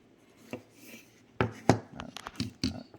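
A sticker label being scratched off the radiator of a cheap AIO CPU cooler, heard as a few close, dry scraping and rubbing strokes with small taps, quiet and without talk.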